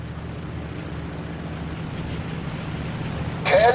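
A steady propeller-plane engine drone hums at an even pitch during a turn in the Birds of Steel game, holding constant before a brief brighter swish near the end.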